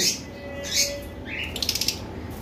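Pet lovebirds in a cage, a few short high chirps and tweets followed by a quick run of sharp rhythmic chirps, close by and without talk.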